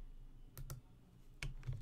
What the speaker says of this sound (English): we wanna click space and type in loop cut and slide